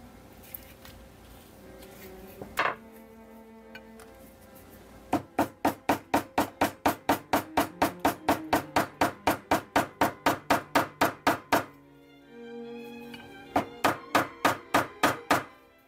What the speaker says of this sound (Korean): 깔끔하게 블루잉을 할 때는 이렇게 망치질을 할 수가 없지만